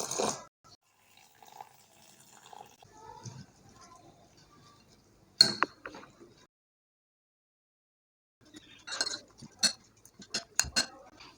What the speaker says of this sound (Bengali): এবার পরিমাণ মতো জল দিয়ে দিচ্ছি ব্যাটারটা বানিয়ে নেওয়ার জন্য।